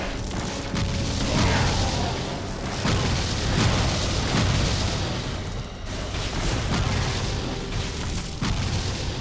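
Explosive shots in the action role-playing game Torchlight: a dense run of booming blasts and crackling bursts, loud and continuous, with no voices.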